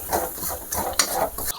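Spiced peas with cumin and chili powder are stirred and roasted in a pan, giving a few scraping strokes of a spoon against the metal and a faint sizzle, with one sharp clink near the middle.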